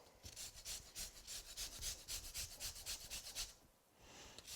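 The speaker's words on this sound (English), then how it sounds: "And then some lemon zest." Lemon being zested for a Brussels sprouts dish, a steady run of rhythmic scraping rubs in quick strokes for about four seconds, then a brief pause and a softer scrape.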